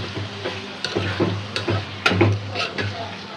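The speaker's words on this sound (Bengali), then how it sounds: "শুটকি আর আলু একলগে কষাইলাম" Dried fish and potatoes stir-fry in a pan, with a continuous sizzle under repeated scraping and stirring strokes of a spatula at an irregular rhythm, close and fairly loud.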